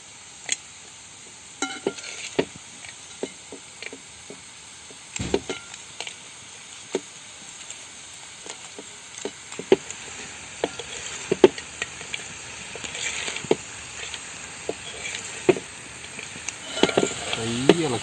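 A Kerala crab roast bubbles and sizzles in the pan as it is stirred gently over low heat, with a continuous hiss, frequent spoon scrapes and taps, and louder stirring toward the end.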